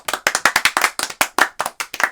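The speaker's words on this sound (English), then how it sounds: "A round of applause, yes." A small handful of people clap in a podcast studio, giving a short round of distinct, close claps in an uneven rhythm with no talking over them.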